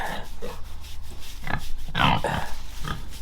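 A farm pig grunts up close in short, rough bursts, several snorts and grunts at irregular intervals over a steady background.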